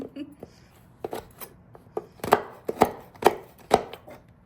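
A knife chops walnuts or other cookie ingredients on a board, sharp irregular strokes that quicken into a steady run of louder, close thuds, with faint talking in the background.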